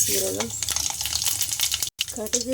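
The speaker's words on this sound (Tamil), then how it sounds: "எண்ணெய் காஞ்ச உடனே தேவையான அளவு கடுகு" Mustard seeds sputter and crackle in hot oil while tempering for a Tamil bitter gourd (pavakkai) kulambu, a dense, continuous sizzle close to the pan, with a voice speaking briefly at the start and end.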